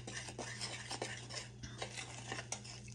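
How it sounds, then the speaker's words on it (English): A utensil stirs buttermilk into pancake batter in a bowl, giving soft, repeated scraping and clinking strokes against a steady low hum, close and without talk. "What you do is you stir it around in there"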